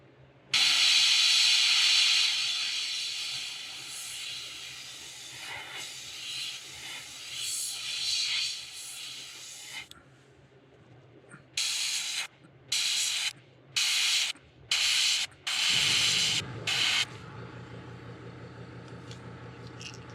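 An airbrush sprays brown paint onto the belly of a Lunker Craw crawfish lure during custom painting, first a long steady hiss, then a run of short, sharp spray bursts for splatter, close and loud.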